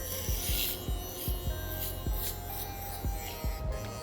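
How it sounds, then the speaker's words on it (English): Electric hair trimmer cutting a low fade, working up the back of the head toward the occipital bone: a steady close-up buzzing hum with rhythmic pulsing strokes as the blades pass through hair. "I'm going to come back up with the trimmer. That's going to take more hair."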